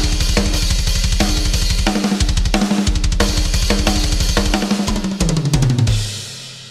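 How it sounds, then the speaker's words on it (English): Programmed GGD Invasion drum kit running at a fast 180 BPM, a loud driving beat of quick hi-hat strokes, kick and snare hits, closing with a tumbling fill and a ringing cymbal tail. "Now it sounds like this at 180 BPM."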